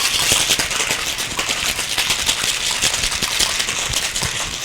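A cocktail shaker full of ice is shaken hard while mixing a margarita of tequila, Grand Marnier or Cointreau and fresh lime juice, giving a loud, close, steady rhythmic rattle of ice against metal with no talking.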